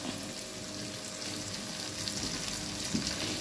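Fenugreek leaves hit hot oil with pieces of bitter gourd in a pan for a bitter gourd fry. The result is a steady, close hiss of frying that runs evenly throughout with small crackles and no speech.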